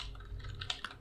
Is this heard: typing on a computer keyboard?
yes